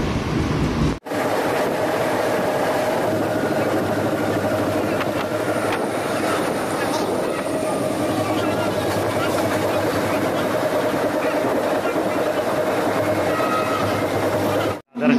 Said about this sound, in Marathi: आम्ही विरारवरून दादासाठी ट्रेन पकडली